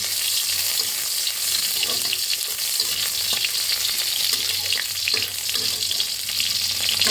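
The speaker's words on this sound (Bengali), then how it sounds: "সাদা তেল দিয়ে দিয়েছি কড়াতে তেলটা গরম হয়ে গেছে এবার কিছুটা রসুন দিয়ে দিলাম" Garlic hits hot white oil in a wok and crackles in a loud, close, unbroken sizzle, with faint stirring taps scattered throughout.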